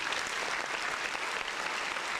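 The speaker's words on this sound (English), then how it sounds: "Round of applause." A round of applause rises as a dense, even patter of many clapping hands, steady and moderately loud with no voices over it.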